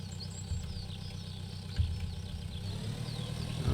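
Tractor engine running in the farming game Pure Farming 2018, a steady low rumbling idle that holds throughout with a slight rise in revs near the end.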